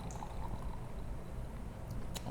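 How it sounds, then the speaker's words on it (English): Cerebral Brewing Rare Trait IPA is poured into a glass, giving a faint, steady trickling rush that runs throughout with soft background noise. "Oh wow, they did a full pour."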